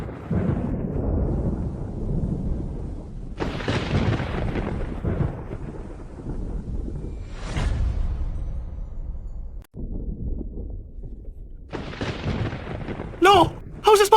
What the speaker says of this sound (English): He can really command the thunder!